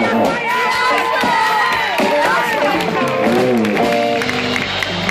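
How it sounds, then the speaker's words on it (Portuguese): A crowd at a live music show in Recife claps, cheers and shouts steadily throughout, with voices and loud whoops mixed in and music audible underneath. "Aplauda um pouco."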